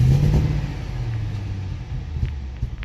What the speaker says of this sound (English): And you can hear the explosions on the exhaust.